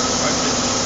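Daewoo Puma 400 CNC lathe with a Fanuc 18T control and 15-inch chuck, its spindle spinning in low gear at about 550 RPM, giving a steady, even whir and hiss held close and unbroken with no talk.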